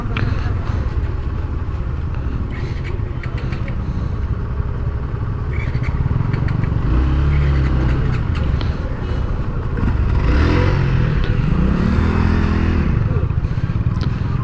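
A motorcycle engine idles and revs loudly up close as the bike boards a small river ferry boat at a crossing, joined by scraping and clatter, with people talking throughout.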